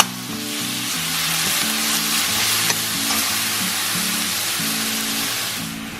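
Pork fries and gets stirred in a pan for egg roll in a bowl, giving a loud, continuous hiss of sizzling with a low hum running steadily underneath.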